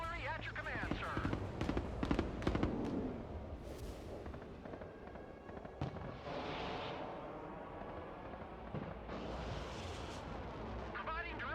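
Rocket artillery fires in the Broken Arrow war game, with a dense run of booms and whooshing launches, then rumbling impacts and rushing noise under a continuous spoken voice.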